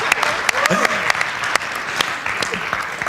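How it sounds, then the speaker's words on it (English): An audience at a pitch competition applauds a guest with brisk, moderately loud clapping. Scattered sharp claps stand out from the crowd, and a voice speaks briefly over it. "Let's give him a round of applause."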